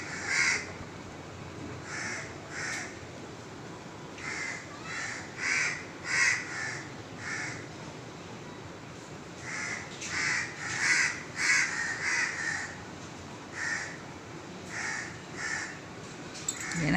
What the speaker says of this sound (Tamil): காக்காய் சத்தத்தை பாருங்கள்